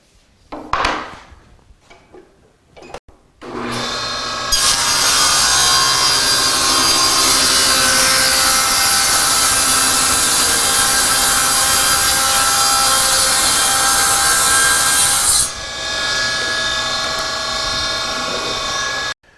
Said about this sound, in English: I'm going to be using this ultra high molecular weight plastic